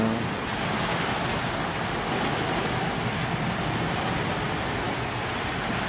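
Sea surf on the Jeju coast heard through an open window of a seaside pension, a loud, steady broadband roar of waves that fills the whole stretch without pause.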